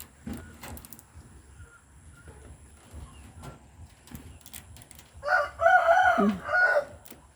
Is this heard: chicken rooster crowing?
yes